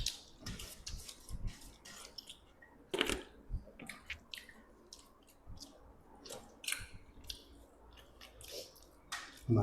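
Close, wet chewing and squishy bites of fried fish and chicken pakora eaten with panta rice, irregular smacking mouth sounds with brief pauses between them, without talking.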